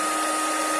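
A Heifer hair dryer runs on its high setting, giving a loud, steady broadband whoosh of blowing air with no break and no talking over it.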